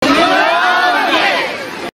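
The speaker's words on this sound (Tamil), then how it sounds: "பொங்கலோ பொங்கல் என ஆரவாரம் செய்து மகிழ்ந்தனர்" A dense crowd of schoolchildren, many in traditional veshti, shirts and sarees, cheers and shouts "Pongalo Pongal" in unison at a school Pongal celebration in Ramanathapuram, loud and sustained, then tapering off.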